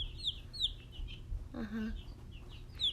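A chatty baby chick gives repeated high, thin peeps at a steady pace, close by and fairly clear, with a short lower call in the middle.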